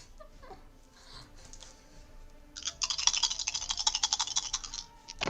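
A big handful of dice clatters across a table during a tabletop role-playing game session, a dense rattling burst that starts suddenly midway and keeps tumbling for a few seconds after a quieter stretch.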